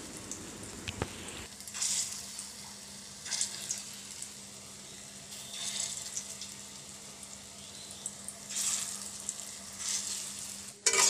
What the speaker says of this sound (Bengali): কড়াইতে তেল দিয়ে দিয়েছি, তো একটা একটা করে বড়া ছাড়ছি।